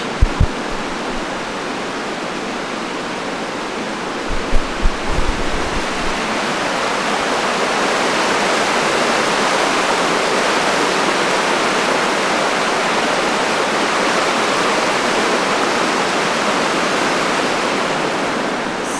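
A local waterfall at Dosewallips State Park pours in a steady, loud broadband rush, with a few faint knocks near the start before the roar settles into a constant wash.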